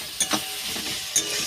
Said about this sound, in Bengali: এইবার 5 মিনিট ধরে ভালো করে ভাজা করে নেব।